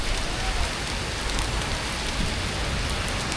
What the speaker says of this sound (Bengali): আকাশ বাতাস কালো করে ঝুম বৃষ্টি নেমেছে